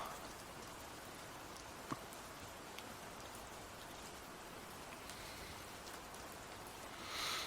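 Rain sound effect playing softly in the background of a tabletop role-playing session, a faint steady patter with one brief click and a small swell near the end.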